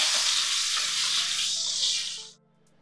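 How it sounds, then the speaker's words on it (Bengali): Eggplant pieces fry in a pan with a loud, steady, close hiss of oil that holds for about two seconds and then cuts off abruptly into near silence. "এবার বেগুনের টুকরোগুলো একটু ভেজে নেব।"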